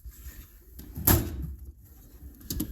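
A metal toolbox drawer holding air and power tools slides open with a sharp rattling clatter, followed by a softer knock and a second brief clank, close and otherwise quiet.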